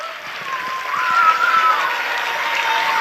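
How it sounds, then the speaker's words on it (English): An audience in a school hall applauds children's performance, sustained dense clapping that swells in the middle and carries on at a steady level, with a faint voice sounding over it. "Please give them a good round of applause,"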